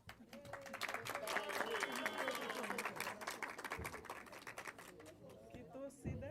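Audience at an MBA graduation ceremony applauding and cheering, a dense sustained wash of clapping with crowd voices, steady and loud throughout while names are being called.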